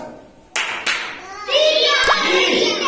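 Schoolchildren in a classroom clap in sharp, separate bursts, a couple of loud claps followed by a busier stretch of clapping mixed with children's voices.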